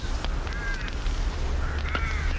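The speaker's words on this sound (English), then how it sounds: "Crow." A crow caws in a radio play, with a few harsh, rasping calls close by, one near the start and another toward the end, over a low background rumble.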